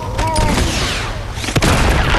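Gunfire bursts crackle through a shootout in the Uncharted 2: Among Thieves video game, loud and dense with a sharp blast near the middle, mixed with game effects.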